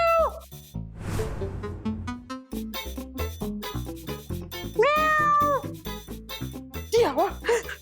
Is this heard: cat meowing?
yes